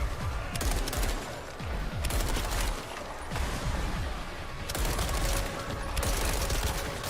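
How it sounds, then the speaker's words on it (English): Rapid bursts of gunfire from the video game Nakwon: Last Paradise, with several dense volleys of automatic fire separated by brief pauses, loud and continuous across the clip. "Most of the gunfire sounds good,"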